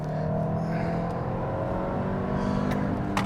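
The turbo 4-cylinder engine of a 2021 Kia Sorento X Line AWD accelerates with a steady, rising drone heard from inside the cabin, with road noise underneath.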